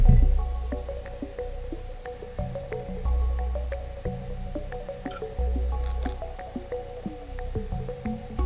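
A cat laps water in the video game Stray, rhythmic wet squishy drips repeating steadily over a low looping game ambience.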